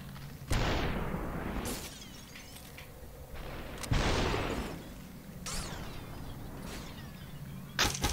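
Gunshots in the Superhot video game come as several sharp bursts spread across the moment, each with a quick decaying tail over a low steady game hum, and no talk in between.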